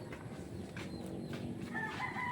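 Native Philippine chickens (kamanok pinas) around a coop and range area, fairly faint clucking and fowl calls over a low outdoor background, with a brief higher call near the end.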